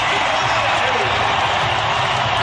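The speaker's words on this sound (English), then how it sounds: "This crowd has never sat down, and they stand and applaud here in the final seconds." A basketball arena crowd stands and applauds in the final seconds of an NBA playoff game, a dense, steady roar of clapping and cheering that fills the space continuously.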